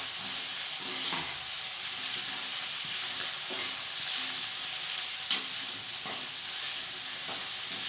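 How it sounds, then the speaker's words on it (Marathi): Fenugreek leaves roast in oil in a pan, a steady soft sizzle with occasional scraping knocks from stirring, close and fairly quiet, no talk. "आता मेथी जराशी खरपूस भाजून घ्यायची आहे. आणि आता आपल्याला मेथी थोडीशी हलवायची आहे."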